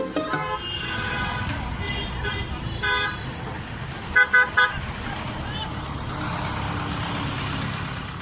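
A car rolls along with a low engine hum and road noise, punctuated by a few short horn toots in the middle, set under a quiet background.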